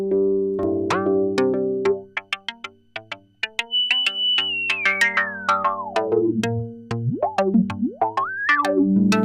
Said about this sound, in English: You just hear that resonance oscillating a bit there